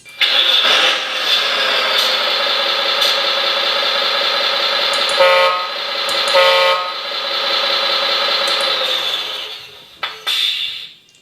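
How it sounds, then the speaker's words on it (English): A Servonaut SMX sound module on an RC MAN 6x6 truck with a Palfinger crane plays loud, sustained horn blasts over a running engine, with two short toots midway and a brief trailing honk near the end. "The very well-known sound used is the servonaut sound, the servonaut SMX."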